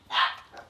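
A single short, sharp dog bark, loud and close, followed by a softer trailing yip, with no talk over it.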